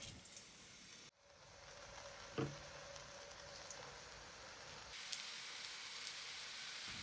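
Eggplant sizzles softly in oil in a pan with a steady, faint frying hiss, broken by a sharp dip near the start and a light clatter a little later.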